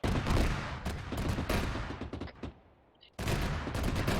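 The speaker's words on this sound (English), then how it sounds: "we got an auto cannon shooting at us from our northeast" Rapid autocannon bursts in the military game Arma 3, loud sustained fusillade of heavy rounds with a brief lull before firing resumes at full intensity.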